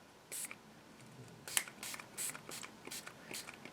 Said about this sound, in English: hopefully the spray bottle works